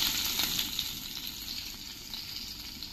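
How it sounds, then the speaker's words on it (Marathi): Curry leaves, chilli and fenugreek seeds crackle and sizzle steadily in hot ghee over a medium flame, a dense, even frying hiss that runs close and unbroken, with no talk over it. "थोडासा गोडलिंब फोडणीत घालते."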